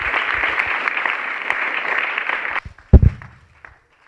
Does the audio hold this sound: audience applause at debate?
yes